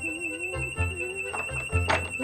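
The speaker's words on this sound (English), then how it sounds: "He's going to make the alarm go on." A steady high-pitched electronic alarm tone sounds in a film scene, continuous and fairly loud, with voices speaking and thudding noises over it.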